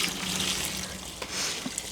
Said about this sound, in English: let me add some water to this